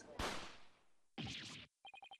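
A gunshot sound effect in the video game Ace Attorney Spirit of Justice: a sharp loud blast with a decaying tail, a second burst, then a quick run of short beeping game tones.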